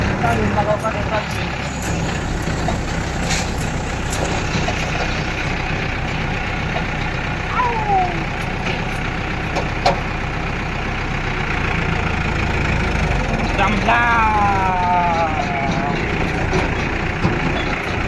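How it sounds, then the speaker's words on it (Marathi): A tractor engine runs steadily as it is driven past green fields, a constant loud mechanical drone with occasional rattles, while a person talks over it. "आपण तरी ट्रॅक्टर चालवत नाही शकतो पण आज चालवत"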